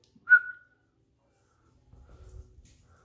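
A dog in a corner lets out one short, high whistling whine, followed by silence and then faint low snuffling and breathing sounds nearby.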